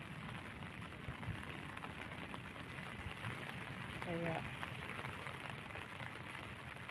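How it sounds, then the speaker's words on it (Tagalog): Steady rain falls on a rainy morning as a continuous broadband hiss that fills the whole clip, moderately loud and close, with a brief spoken word near the end. "medyo lumakas na yung ulan ha."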